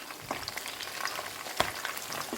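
Pieces of Korean chicken sizzle in hot oil during a second fry, giving a steady crackling hiss with scattered sharper pops and a brief stir, close and moderately loud, no voices.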